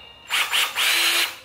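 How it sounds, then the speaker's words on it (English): A power drill bores holes in a wall to hang a shelf, with three close, loud bursts of high whining motor sound, two short and one longer, separated by brief pauses. "We're about to drill some holes in this wall so we can get this shelf hanging right."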